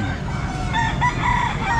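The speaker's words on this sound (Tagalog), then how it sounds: "mga manok" Roosters crowing and chickens clucking at an outdoor pet market in the Philippines, several close overlapping crows over a low bed of market background noise, no talk.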